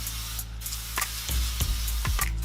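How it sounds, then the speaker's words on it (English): Non-stick cooking oil is sprayed into a pan in several short hissing bursts over a low background hum, each spray brief and close. "I like the non-stick oil, no salt, nothing like that."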